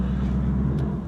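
2024 Mustang GT V8 engine holding near 4,000 rpm, a deep steady rumble with strong low harmonics, loud and close for about a second, without talk.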